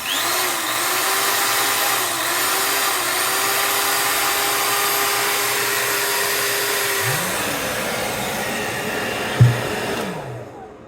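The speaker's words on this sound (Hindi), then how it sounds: "और इसको अब मैं इसके ऊपर ये ड्रिल चलाता हूँ" An electric drill run as a load on a Sorotec 1200-watt solar inverter, a steady whining motor hum held for about seven seconds, then slowing and revving again briefly with a thump before cutting off.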